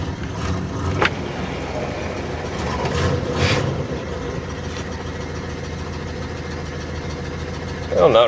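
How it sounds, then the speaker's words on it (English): A 1963 Oldsmobile V8 idles steadily by itself after a cold start, a continuous low rumble with a slight knock, close and even, with a brief louder sputter near the end and no voices. "Idling on its own for the moment."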